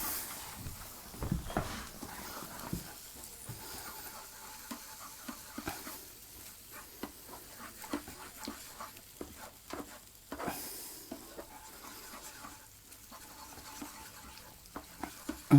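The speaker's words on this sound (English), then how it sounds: "I'm going to stir that round." A spoon stirs tuna and mushroom sauce with cream in a hot pan, soft scraping strokes over a faint steady sizzle, close and fairly quiet with occasional clinks.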